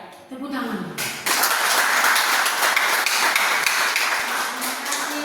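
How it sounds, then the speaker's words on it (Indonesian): An audience breaks into clapping and applause at a Christian religious education class, a dense burst of hand claps that holds loud and steady after a brief spoken line at the start. "Tepuk tangan."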